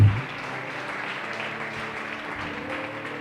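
Congregation applauding during a church service, a continuous diffuse wash of clapping that fills the room, steady and fairly loud with a low reverberant hum beneath.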